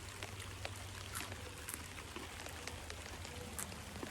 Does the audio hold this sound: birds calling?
no